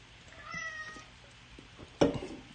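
A domestic cat meows for food in a couple of drawn-out, moderately loud calls near the start, followed by a sharper, louder meow near the end.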